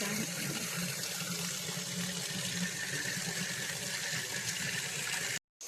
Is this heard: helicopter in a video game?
no